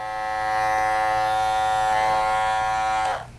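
Cordless Masters hair clippers run with a steady, close, bright electric buzz for about three seconds before cutting off abruptly.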